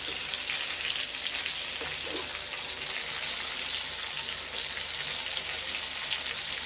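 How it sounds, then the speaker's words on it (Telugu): Curry with dry coconut cooks in a pan, a dense, constant sizzle and crackle that holds steady throughout with faint stirring scrapes underneath, close and even, no talking. "కలుపుతున్నాను."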